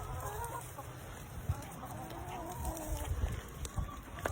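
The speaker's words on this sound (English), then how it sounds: "Now, all of these chickens are females except for our rooster right here." Hens and a rooster clucking on a farm, soft scattered clucks and murmurs against outdoor background noise, fairly faint and close-by, with a few light thumps.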